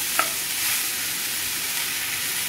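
Garlic potatoes with chopped coriander being stirred in a pan, a bright continuous sizzle with a spatula knock near the start, close and unaccompanied by speech.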